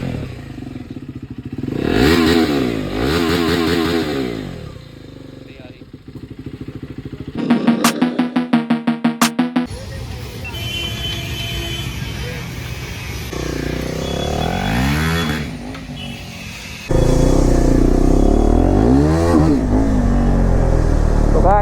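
A KTM Duke 390 BS6 motorcycle fitted with a loud aftermarket bend-pipe exhaust is revved up close in short bursts, with rising and falling engine notes, a brief clattering rattle and a heavier sustained rev near the end.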